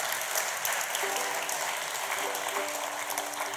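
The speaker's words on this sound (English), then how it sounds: "can we have a round of applause for both the compere of tonight" Audience applause for a compere at a science event in Conway Hall, a dense, continuous wash of clapping from a large crowd at moderate distance, alone without talk.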